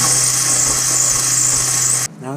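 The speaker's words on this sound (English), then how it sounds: "moving the drill bit around a little bit just to create a little bit more room" A power drill bit enlarges a rivet hole in a Toyota Tacoma hood while fitting a hood strut kit, giving a loud, steady high-pitched whine that cuts off abruptly after about two seconds.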